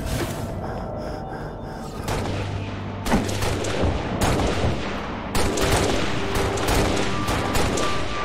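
Rapid bursts of gunfire and explosive booms crash through a Halo video game battle on a beachhead, sharp loud volleys that break off and start again in several bursts.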